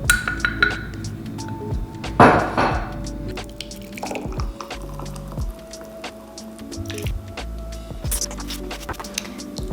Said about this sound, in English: I like to store my smoothies in these glass jars.